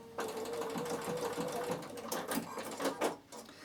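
A Bernina sewing machine stitches forward and then in reverse, a steady close motor whir with a rapid needle patter running continuously.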